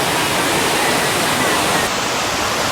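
A waterfall roars as a dense, steady wash of broadband rushing water, loud and close, with no talk over it.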